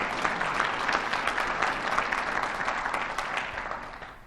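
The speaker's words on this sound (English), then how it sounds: "I'd like for the trustees present to stand for a round of applause" A college anniversary audience applauds the trustees with brisk, steady clapping that holds for several seconds and then gradually fades, sounding fairly close in a large room.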